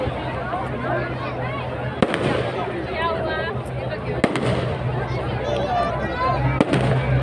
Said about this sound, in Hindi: आतिशबाजी हो रही है